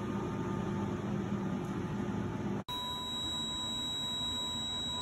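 An Amana commercial microwave oven runs at full power with a steady hum and faint high whine, broken by one brief dropout near the middle before the hum resumes.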